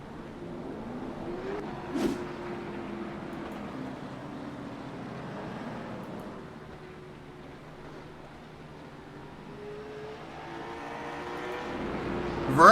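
Stock race cars at Slinger Speedway roar past as they accelerate out of a corner, with engine drones rising and falling at a moderate distance and a louder car closing in at the end.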